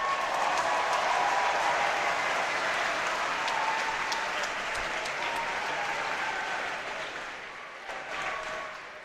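Loud, sustained applause from a large audience at the Rubik's Cube European Championship, cheering the top 3x3 competitors, fading slightly toward the end.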